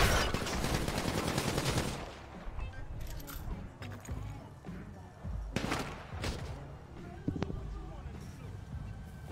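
Bursts of gunfire in a roleplay video game, a sustained rapid volley followed by scattered single shots and thumps, with voices talking over it.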